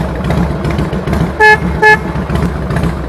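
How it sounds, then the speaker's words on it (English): Horn of a 1993 Harley-Davidson Nostalgia (Moo Glide) motorcycle gives two short, loud, close beeps in quick succession over a rumbling background. "Horn works great."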